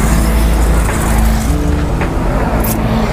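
A Toyota Kijang Innova rolls past on a busy road, its steady low engine hum and tyre roar loud and close throughout, blended with surrounding traffic noise.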